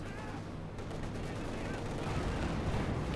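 Gunfire and explosions in the real-time strategy game Company of Heroes 2, a dense, continuous rumble of shots and blasts that stays loud and unbroken throughout.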